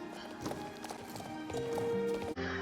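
Hooves clip-clop steadily from a Winfell horse in the video game Star Stable, a rhythmic run of hoofbeats over layered game music, loud and close with no talking.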